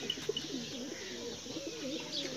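A desi Ferozpuri pigeon coos softly in a short series of low, rolling calls, close by and fairly quiet against faint background noise, with a few light chirps mixed in.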